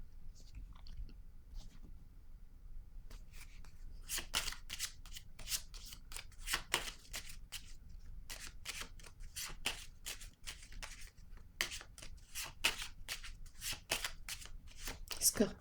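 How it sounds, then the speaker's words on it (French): Tarot cards are shuffled in quick, papery riffles and then laid down one by one with soft flicks, all close and quiet, in bursts separated by short pauses. "Je vais déposer une carte sur elle."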